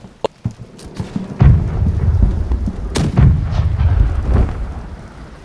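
Ship cannons fire in the Blackwake pirate video game, a series of heavy booms with sharp cracks, the biggest at about one and a half and three seconds, rolling rumble in between.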